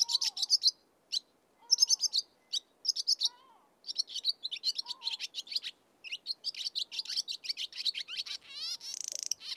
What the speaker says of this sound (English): This is the song of the swallow.